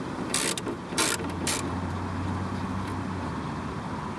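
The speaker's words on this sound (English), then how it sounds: "Now I have a 7mm on an extension, and then there's a bolt here and a bolt here" A 7mm socket wrench on an extension ratchets as it loosens a headlight cover bolt on a Corvette. Three short bursts of close, crisp clicks sound over a low steady hum, with no talk.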